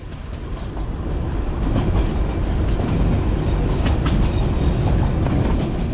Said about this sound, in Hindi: उससे पहले ट्रेन खुले मैदान में आती है।